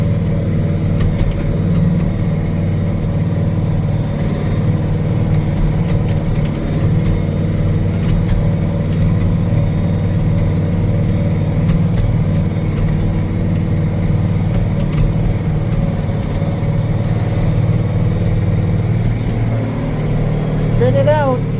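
A tractor engine labours hard under load, pulling a 12-foot disc through snow, a steady, loud low drone that holds throughout.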